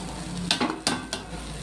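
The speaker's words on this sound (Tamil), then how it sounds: "இப்போ இந்த ஸ்டேஜில் நம்ம முந்திரி திராட்சை ஆட் பண்ணிக்கலாம்" Cashews and raisins fry in ghee for banana halwa, a close sizzle under a few quick stirring scrapes and clinks against the pan.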